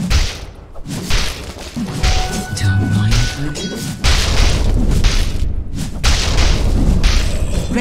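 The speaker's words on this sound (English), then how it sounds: "Radiant's bottom tower has fallen." A tower crumbling in the game Dota 2, heavy booming crashes and thuds rolling over several seconds, loud and layered with ongoing battle noise and a faint voice in the background.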